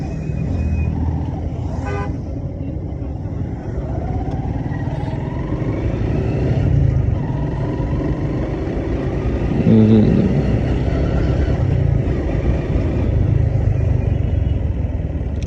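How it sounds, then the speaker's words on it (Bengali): A jammed road in Dhaka between Mirpur and Uttara, with cars and motorcycles idling and rumbling close by while horns toot now and then. "এই রোডটা হায় হায়, রাস্তা হয়ে তো আরো জ্যাম হয়ে আছে।"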